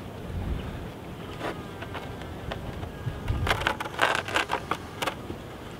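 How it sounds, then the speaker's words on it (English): Honeybees buzz faintly around a small nucleus hive housing a wild colony, with a soft drone and scattered nearer buzzing passes that grow busier toward the end, and no talking. "There's not a lot of bees in here, but there's a bit of nectar there, Lynn."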